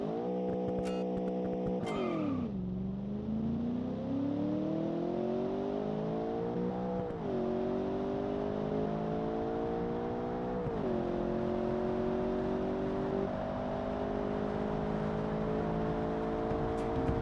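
Dino Queen car in the Automation game test run, its engine revving up through the gears with rising whine and pitch drops at each shift, steady and loud with no talk.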